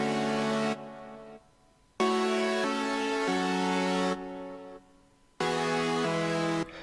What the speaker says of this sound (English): I brought this guitar in later, so I just started with these chords.